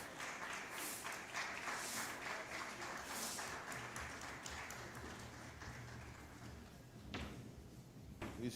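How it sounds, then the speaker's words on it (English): A conference audience applauding as a speaker walks up, a fairly faint and diffuse wash of clapping across a large room, continuous with a few knocks and rustles near the end. "Please keep clapping for him as he makes his way here."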